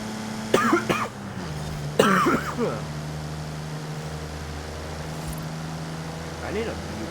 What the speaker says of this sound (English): I need a mute button for every time I cough